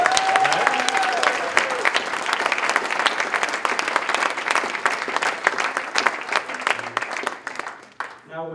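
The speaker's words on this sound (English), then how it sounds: "let's give him a round of applause for that" A dinner crowd at a 2017 Pickleball Hall of Fame induction ceremony applauds an inductee, steady dense clapping filling the room for about eight seconds before it tapers off.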